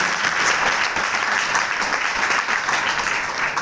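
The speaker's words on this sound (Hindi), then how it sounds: "ताली बजाकर" A church congregation at a Good Friday service claps together in a steady, dense burst of many hands, fairly loud and sustained for several seconds with no talking.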